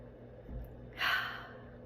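A single deep breath drawn in, a soft airy inhale rising near the middle and fading away, close and fairly quiet with no talk.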